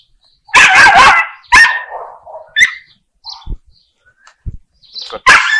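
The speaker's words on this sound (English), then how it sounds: "We've got this annoying, shrill little bark." A small neighbor's dog barks shrilly and close, several sharp bursts in quick succession followed by scattered single yips with quiet gaps between.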